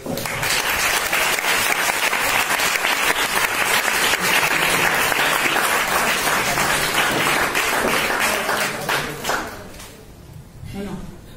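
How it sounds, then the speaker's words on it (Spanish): An audience at a prize ceremony for a short-story contest gives sustained, close applause for about nine seconds, which then thins out and fades, with some voices around it. "Por favor, un aplauso"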